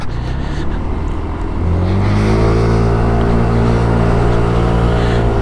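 A motor scooter cruising at high speed on the road, its engine tone rising and settling into a steady, loud drone with strong wind rush over the mic, no talking.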